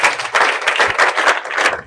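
An audience at a school anti-drug abuse campaign event claps, brisk uneven bursts of hand claps from a small group, close and lively, with no talk.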